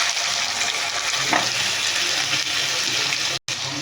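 Loud, steady sizzling of masala spices frying in a hot pan for a rohu fish curry, with a brief stir partway through and a short cut near the end.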